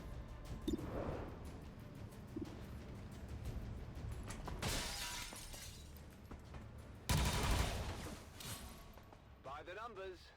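Rapid soldiers' weapon fire in the video game XCOM, with crackling bursts and swelling volleys that rise around the middle and again near seven seconds, over a steady background.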